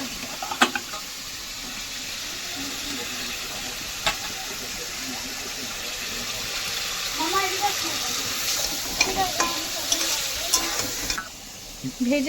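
Fried potatoes and pointed gourd stir-fried in oil for an egg curry, a steady sizzle under scraping stirs with a few sharp clinks, the frying growing busier toward the end, with occasional faint talk.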